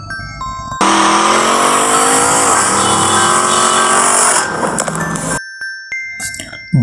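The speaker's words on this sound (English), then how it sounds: "This is a jeep." A jeep engine roars up loudly and steadily for several seconds, pitch shifting as it drives, then cuts off abruptly, followed by a few brief scattered noises.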